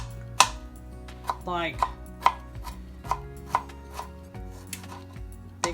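Fresh strawberries chopped with a knife on a board, a close series of crisp, fairly regular chops with brief pauses and a short scraping sweep between them.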